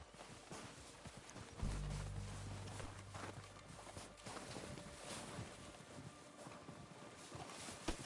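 Horses' hooves clip-clop steadily in a video game as riders come down toward camp, a low rumbling gallop that swells in at about two seconds and continues under dense ambient game noise.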